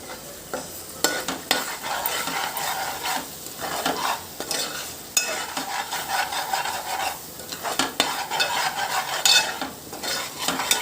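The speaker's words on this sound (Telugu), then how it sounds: "ఇది ఆయిల్లో పెట్టకుండా కొంచెం సిమ్లో పెట్టుకొని వేపుకోవాలి." Drumsticks dry-roasting in a pan over low heat with no oil, a continuous close scraping stir with soft sizzle and occasional metallic taps of the utensil against the pan.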